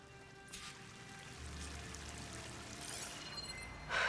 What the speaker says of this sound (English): That waterfall must be coming from somewhere.